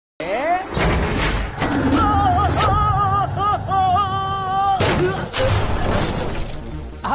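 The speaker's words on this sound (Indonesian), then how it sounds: "Tapi tak lama, bajai tersebut pun hancur." An auto-rickshaw (bajaj) is smashed apart in a film scene: loud bursts of shattering and crashing impacts that come in waves, with voices and tonal sounds running through the chaos.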